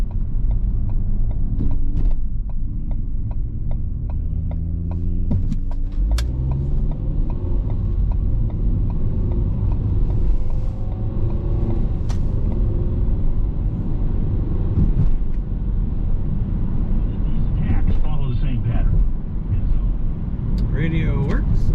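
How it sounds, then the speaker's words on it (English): A 2018 Ford Transit Connect Titanium passenger van being driven, heard from inside the cabin as a loud, steady low road and engine drone with occasional clicks and knocks, while a person talks over it. "Here we have a 2018 Ford Transit Connect Titanium. Let's see how she drives."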